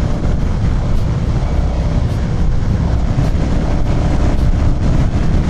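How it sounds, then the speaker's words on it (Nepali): Strong wind roars and buffets the microphone beside a road heading toward Pokhara. It makes a loud, dense, unbroken rumble with no pauses. "आम्मामा के साह्रो हो यो हावा"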